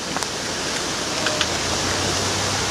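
Floodwater from a tropical storm rushes down a Kingston road turned into a river, a loud, dense, unbroken roar close by with a few faint knocks.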